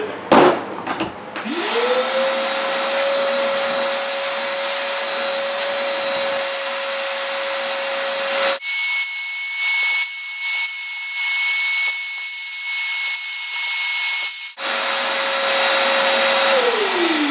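A shop vac running through a homemade DIY dust collector, a loud continuous motor whine that winds up at the start, shifts pitch and airflow as suction changes midway, then returns to a steady roar.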